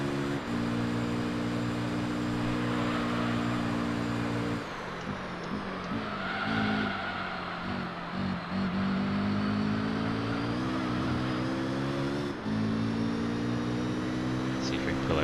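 Japanese touring cars lapping a circuit on the final lap in Gran Turismo 3, a steady loud engine drone with shifting pitch, brief dips and changes, running continuously under voice commentary.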